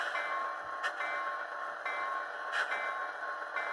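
An SD40-2 diesel locomotive sound played through a Tsunami2 sugar cube sound decoder, running steady and loud with a constant engine drone and a few brief sharper bursts, heard alone without talk.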